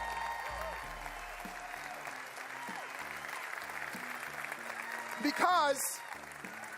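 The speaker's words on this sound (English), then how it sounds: "help me in giving an incredible applause and thank you to Success Magazine" A motivational seminar audience applauds steadily under background music, while a voice speaks briefly near the end.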